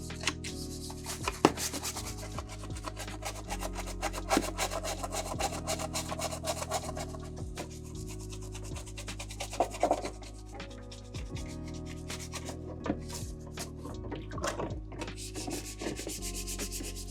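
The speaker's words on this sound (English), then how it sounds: "we can go ahead and start scrubbing the rest of the top now" A brush scrubs the plastic top of an NES front-loader console during cleaning and repair, giving steady, close, rhythmic rasping strokes that continue throughout with no talking.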